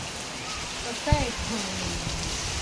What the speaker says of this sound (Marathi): किती जोराचा पाऊस पडायला आहे